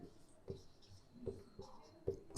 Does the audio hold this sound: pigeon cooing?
no